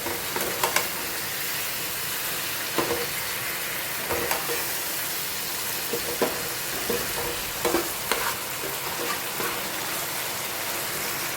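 Soaked basmati rice being stirred into frying vegetables in a pan, giving a steady sizzle under intermittent scraping and stirring strokes, close and moderately loud, with no talking.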